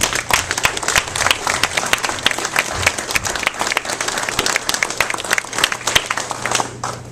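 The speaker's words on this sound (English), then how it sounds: "I want you just to give them a round of applause" Audience applause at a retirement celebration, a dense crowd of sharp individual claps ringing out steadily and loudly, with a faint low hum beneath and the clapping thinning slightly at the very end.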